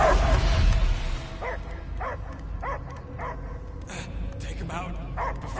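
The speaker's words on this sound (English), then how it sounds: "I hear only barking" A dog barking and whimpering in the Guardians of the Galaxy video game, a series of short yips and barks repeating at a steady pace under a loud, busy game soundscape with a voice at the start.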